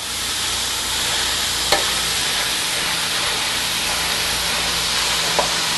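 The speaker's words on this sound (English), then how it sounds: "Starting to sizzle." Steady, dense sizzling and crackling of meat frying in hot oil, close and continuous, with a couple of faint clicks and no talking.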